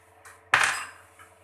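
A pressure cooker lid being opened after steaming shami kabab, with a single sharp metallic clank of the lid followed by a fading ring, preceded and followed by faint small clicks in a quiet kitchen.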